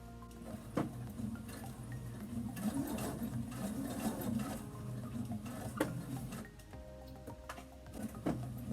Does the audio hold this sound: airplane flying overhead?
no